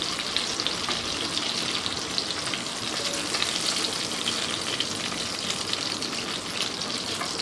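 Fish sizzling as it fries in hot mustard oil, a steady bright crackle and spatter held at an even level throughout, with no talking.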